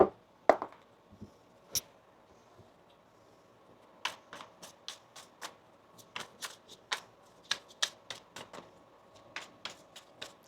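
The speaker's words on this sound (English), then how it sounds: "Let's get one more shuffle here." Tarot cards are shuffled in rapid riffling bursts, a string of crisp, papery snaps and flicks, close and fairly quiet against a hushed room.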